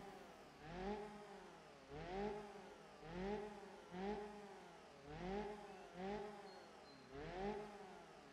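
A simulated car engine in BeamNG.drive, fitted with a temporary exhaust, revs again and again, about seven rising-and-falling pulls in a steady rhythm, fairly quiet and with no talking.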